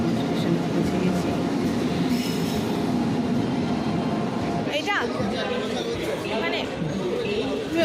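Busy railway station ambience in Delhi, with trains rumbling past, metal wheels squealing and a steady wash of crowd chatter, and voices talking close by.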